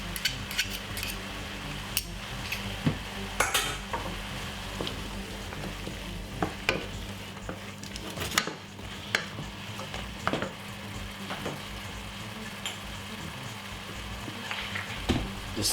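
Two garlic cloves sizzle in a dry pot with no oil, a steady crackling hiss under repeated clinks and scrapes of a stirring utensil against the pot, close up with no voices.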